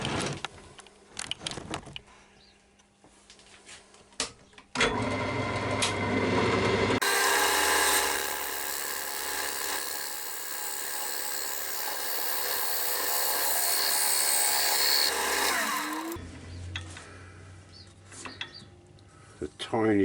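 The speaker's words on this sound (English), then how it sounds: "I'm just going to face this off now, and I'm going to use the point of my skew chisel for this." A skew chisel point faces off a piece of wood turning on a lathe during off-centre work with a glue chuck, a loud steady scraping hiss lasting several seconds between quieter stretches of lathe hum and someone talking.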